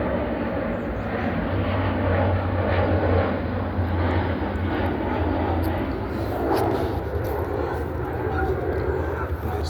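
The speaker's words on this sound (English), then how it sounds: "Plane are coming." An airplane passes overhead outdoors on an icy day, a steady broad engine roar that holds for the whole stretch, moderately loud and distant.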